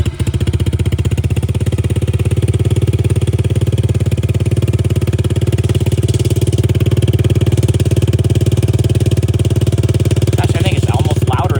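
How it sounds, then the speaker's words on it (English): A Yamaha TTR 110 dirt bike idles close by, about three feet away, with a loud, steady, even engine putter that holds unchanged throughout. "we're gonna go ahead and start up our TTR 110"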